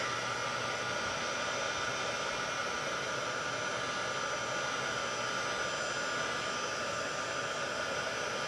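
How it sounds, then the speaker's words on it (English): A heat tool dries a stamped watercolor card with a steady, loud, close blowing roar and a faint whine that stays unbroken throughout. "So I'm going to take my heat tool, and I'm just going to dry this really quick."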